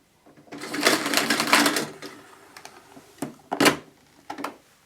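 The cord of a Hoover Dustmanager cylinder vacuum cleaner rewinds after a pedal press, a close rattling, whirring burst of about a second and a half, followed by several sharp clicks and knocks.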